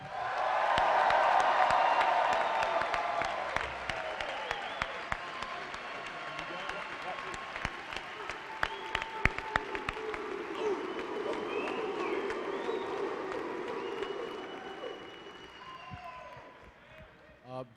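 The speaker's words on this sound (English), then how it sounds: "a round of applause for the class of 2020" Applause and cheering from a ceremony crowd for the class of 2020, loudest at the start, then settling into scattered claps under talking voices before tapering off.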